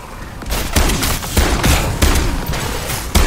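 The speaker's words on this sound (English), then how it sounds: "I love this shotgun, man." A shotgun fires repeatedly in Call of Duty Modern Warfare Zombies, several loud blasts spaced about half a second apart over continuous combat noise.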